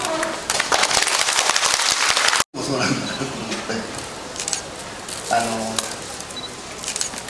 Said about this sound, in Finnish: Jos olette sitä mieltä, että näin pitkä ura ansaitsee pienet aplodit, niin olkaa.